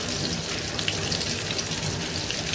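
Pabda fish frying in a pan for a home-cooked curry with peas, giving a steady, dense sizzle that holds at an even level throughout with no talking.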